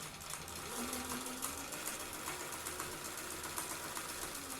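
A sewing machine stitches a new seam along a fabric edge, a continuous fast mechanical whirr with a soft steady patter, close and even throughout, with no talking.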